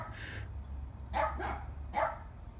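Neighbor dogs bark in the distance, three or four muffled woofs over a low steady outdoor rumble, with no voices.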